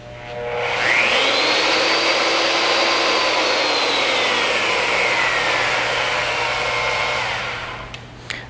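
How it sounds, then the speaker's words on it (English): A DB32 tube bending machine motors back to its 0 degree start position, a steady loud whirring hum that holds for about seven seconds before winding down, with no voices. "Press the trigger switch for a second time and hold to return to the 0 degree starting position."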